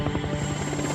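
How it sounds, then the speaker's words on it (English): Coast Guard helicopters fly a night search for a crash site, their rotors a steady, pulsing thump with a constant engine whine, moderately loud and alone. "Coast Guard helicopters are sent out in search of the crash site"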